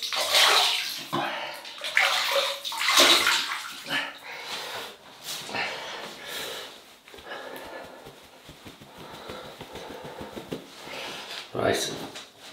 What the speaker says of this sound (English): Rinse the face.